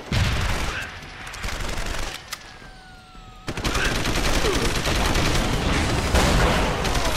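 Gunfire in Deus Ex: Human Revolution, dense rapid bursts of shots, a short lull with a rising whine, then sustained heavy automatic fire, loud and close.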